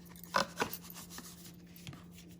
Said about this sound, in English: I'm just smoothing it with my hands